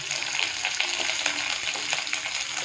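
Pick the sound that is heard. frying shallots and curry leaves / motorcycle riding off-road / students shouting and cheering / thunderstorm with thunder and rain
frying shallots and curry leaves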